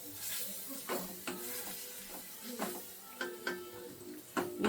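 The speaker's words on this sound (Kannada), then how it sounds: "ಇವಾಗ ಇದು ಚೆನ್ನಾಗಿ ಫ್ರೈ ಆಗಬೇಕು." Spinach with chilli powder fries in a pan, a soft steady sizzle with intermittent clinks and scrapes of a spoon stirring, fairly quiet and close, with no talking.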